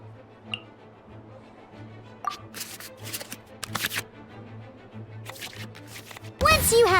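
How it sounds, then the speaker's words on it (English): Cards being shuffled back into the draw pile in the Genshin Impact card game, a scatter of soft ticks and a few brisk swishes over a steady low background hum, closing with a louder burst of game effects. "we can select any number of cards in our hand to shuffle back into the draw pile"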